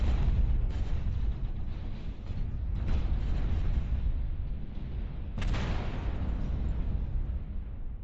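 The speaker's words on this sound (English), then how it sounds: "Artillery strike." Continuous booming explosions from an artillery strike in a multiplayer shooter video game, dense and rumbling with several sharper blasts, loud throughout with no talk.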